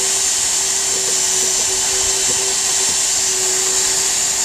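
Hot air plastic welding gun blowing, a steady loud broadband hiss with a constant hum, close and unbroken throughout.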